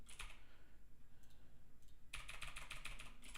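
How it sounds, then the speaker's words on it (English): Keystrokes clatter on a computer keyboard during a live trading session: a short burst of typing at the start, a quiet pause with a couple of isolated taps, then a rapid run of crisp, close clicks. "You can hear my keyboard."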